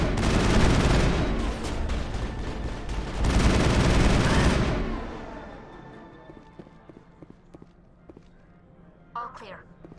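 Gunfire in Mass Effect, heard as dense rapid bursts of automatic fire that thin out into sporadic single shots. The shooting fades toward the end of the fight.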